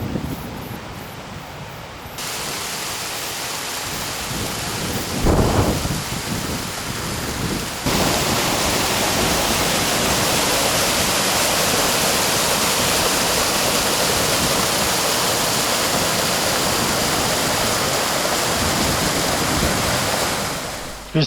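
A mountain torrent rushes along a trail, a dense, loud, steady roar of water that swells after a few seconds and stays constant throughout, with no voices.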